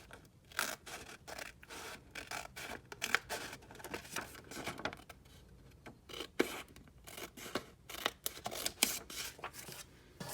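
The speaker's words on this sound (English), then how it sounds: "cut along that fold line as closely as you can" Scissors cut paper along a fold line in a run of quick snips and scrapes, close and fairly loud, with brief pauses and no talking.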